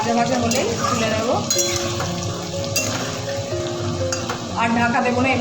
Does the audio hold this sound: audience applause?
no